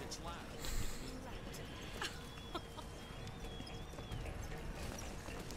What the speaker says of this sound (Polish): To jest mechaniczny koń na prąd.